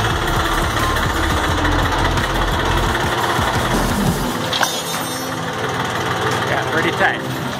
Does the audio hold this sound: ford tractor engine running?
yes